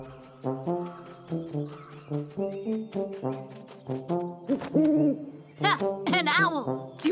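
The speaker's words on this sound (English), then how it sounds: "An owl!" Cartoon owl hooting in a children's bear cartoon: a run of loud, tonal hoots in steady rhythm, ending in higher, sliding squeals. No talk.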